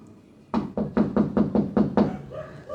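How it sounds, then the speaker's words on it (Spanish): Eight steady knocks on a door, loud and close, following a brief quiet moment. "Él está tocando la puerta."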